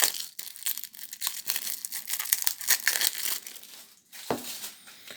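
Plastic wrapping and cardboard packaging of a Magic: The Gathering Commander Legends deck being torn and crumpled open, with close, continuous crinkling and ripping and a short pause near the end.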